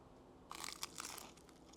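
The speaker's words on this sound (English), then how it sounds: "That fried plantain is perfect. It's got that crunch to it." Crisp fried plantain bitten in a close crunch, with a short burst of crackling bites in the middle and quiet room tone around it, as part of a rockfish ceviche bite with avocado and habanero.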